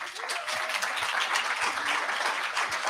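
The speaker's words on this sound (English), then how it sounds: "Clap." An audience claps in a dense, continuous patter, moderately loud and steady throughout a short burst.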